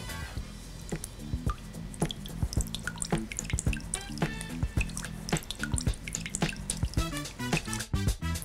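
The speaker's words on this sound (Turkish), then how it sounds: "Yaklaşık 3 çorba kaşığı kadar taze limon suyu sıkıyorum" Fresh lemon juice, about three tablespoons, squeezed by hand into a homemade Starbucks-style Cool Lime drink, giving a close run of wet squishes and steady drips and splashes with no talking.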